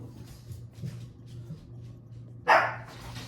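A pug and a Shih Tzu bark at someone walking down the street in the rain; after a low indoor hum, one sharp, fairly loud bark bursts out, followed by fainter yapping.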